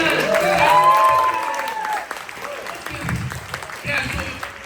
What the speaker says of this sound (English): let's give a big round of applause to our event